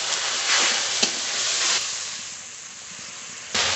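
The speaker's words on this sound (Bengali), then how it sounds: "এবার একটু জল দিয়ে মশলাটা ভালো করে কষিয়ে নেব" Spice paste of ginger, garlic, cumin, green chilli, salt and turmeric sizzling and frying in a pan as water is added, a loud steady hiss with stirring scrapes and a brief burst near the end.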